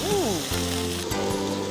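Six meat slices fry in a hot pan with a steady sizzling hiss, while people talk over it.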